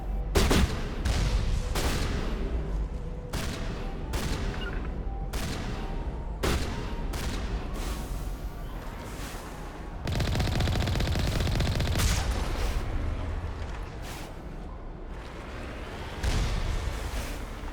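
Enemy gunfire in Mass Effect, with repeated sharp shots and bursts of machine-gun fire, some heavier booming blasts, loud and close with a steady mechanical background hum.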